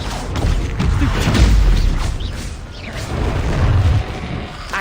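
A Confringo spell explosion in the video game Hogwarts Legacy lands as loud, rumbling booms with a crackling burst, swelling twice across a few seconds.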